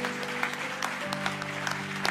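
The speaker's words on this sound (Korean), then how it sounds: "다 함께 박수로 축복해 주시기 바랍니다." A church congregation at an elder ordination service applauds, steady crowd clapping filling the room, with a sustained tone underneath.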